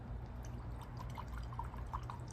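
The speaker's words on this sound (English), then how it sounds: "But let's go and pour some of this whiskey in." Whiskey poured from a bottle into a glass, a quiet liquid trickle with small gurgling splashes as the glass fills, faint over a low background hum.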